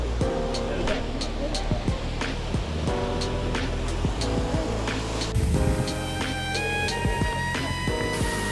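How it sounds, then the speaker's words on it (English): Water rushing at the waterfall on Taum Sauk Mountain in Missouri, a steady moderate wash running throughout beneath a layer of tonal sounds and other noises, with no clear talking. "We have arrived at the waterfall at Taum Sauk Mountain."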